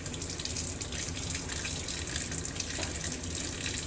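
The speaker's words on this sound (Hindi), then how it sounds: "देखो ब्रोकली को कितनी साफ तरीके से धोते हुए, हाइजीन का प्रॉपर ख्याल।" Broccoli and other vegetables are being washed under a running tap, a steady, close hiss of flowing water splashing into a sink, continuous and fairly loud with no voices.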